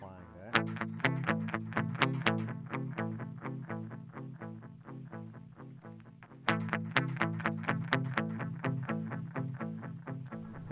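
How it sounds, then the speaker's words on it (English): Electric guitar played through a Boss DM-2W analog delay pedal, a steady run of plucked notes with distorted, thickened repeats, loud and close, the pattern restarting partway through. "the analog delay is a great pedal for thickening up a guitar line"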